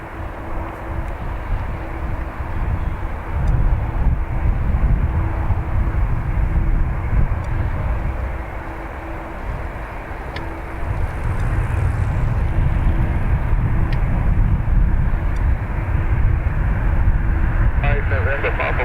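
An airliner departs Dublin Airport on its takeoff roll, a loud sustained engine roar with a steady whine running through it. The roar dips briefly, then builds again as the aircraft powers away.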